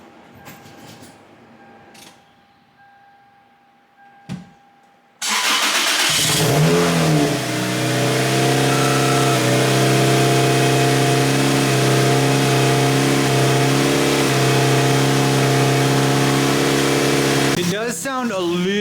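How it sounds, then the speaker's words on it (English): After a few seconds of quiet, a Toyota Celica GT-S Turbo starts up and settles into a steady, loud idle while warming, with a faint voice heard before the engine catches. "So let's start off by warming up the car real quick."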